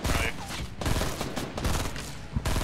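Rapid gunfire bursts in a Fortnite Battle Royale match crackle loudly and densely, with shots piling on one another in a chaotic, close fusillade.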